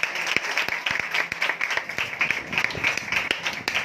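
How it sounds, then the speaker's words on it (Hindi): A church congregation claps and applauds at a service, a dense, steady wash of many hands with a few sharper close claps standing out. "आज की सारी ब्लेसिंग के लिए जोरदार तालियां बजाएं"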